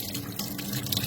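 Water runs steadily from a tap while hands are washed under it, a brief, close hissing splash with small irregular splatters.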